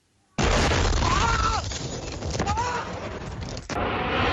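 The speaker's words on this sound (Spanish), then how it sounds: "Esta imagen muestra el instante en el que el periodista libanés Fadi Boudia resultó herido durante un bombardeo" A bombing in Lebanon strikes during a televised political interview, a sudden loud blast erupting after near silence and followed by sustained roaring, crackling rumble with a fresh jolt near the end.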